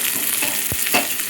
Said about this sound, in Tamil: இந்த வெங்காயம் போட்டு கொஞ்சம் நல்லா வதக்கி விடுவோம்.